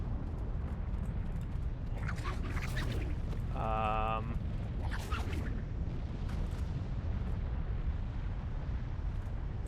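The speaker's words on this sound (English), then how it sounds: "It would appear that the volcano is exploding now." Volcano erupting in a video game, heard as a steady deep roaring rumble with bursts of crackling debris. A brief tonal chirping rises over the roar partway through, and a voice talks at times.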